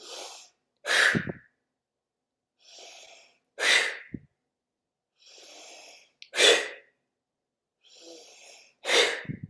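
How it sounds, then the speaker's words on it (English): Forceful breaths are pushed out quickly through the mouth, four sharp exhales in a steady rhythm, each one following a softer inhale, during a guided breathing exercise. The breathing is close and clear with no talking. "take a deep breath in and push the air out quickly through your mouth"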